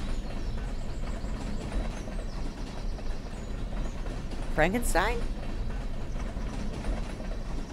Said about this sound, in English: Nope, there's the train.